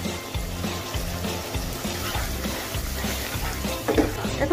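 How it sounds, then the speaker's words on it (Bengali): Ground masala spices fry in oil in a pan for a home-style chicken roast made with farm chicken, a steady close sizzle that runs throughout, with occasional stirring scrapes and a slight rise near the end. "আর একটু কষিয়ে নেব তাতে মশলাগুলোর কাঁচা স্মেলগুলো চলে যায়।"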